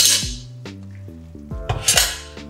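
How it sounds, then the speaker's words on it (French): Courgettes being stirred with almond powder in a pan, a utensil scraping and clinking against the metal with sharp ringing knocks and a faint sizzle, close and without talk. "On remue."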